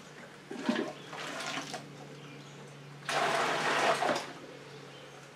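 Water for a corn moonshine mash is poured into a mash tun in two gushing, splashing bursts, the second louder and longer, over a steady low hum.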